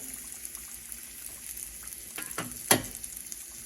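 Frying oil sizzles and crackles steadily throughout, with a louder burst of spattering near the end as a sweet potato doughnut drops in. No one speaks.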